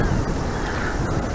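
Blustery outdoor wind battering the microphone in a constant loud roar of rumbling buffeting noise that fills the whole moment, with no voices.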